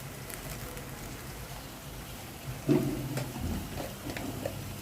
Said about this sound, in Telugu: ఉల్లిపాయలు ఫ్రై అవుతున్నాయండి. అల్లం వెల్లుల్లి పేస్ట్ వేస్తున్నాను.